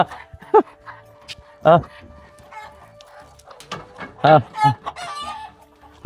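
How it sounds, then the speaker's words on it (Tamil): Free-range country chickens and a rooster on a Tamil home plot cluck and crow in several loud, close bursts, with quieter clucking and bird calls between them and people talking softly in the background. "நாட்டின கோழி, நாட்டுக்கோழி."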